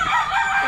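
A rooster on a rural farm crowing once, close and loud, a short hoarse call heard on its own.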